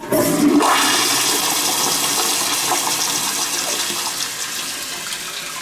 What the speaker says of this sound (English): the toilet here, it's a Kohler. And from what I can tell, it's spotless. So let's give it a flush.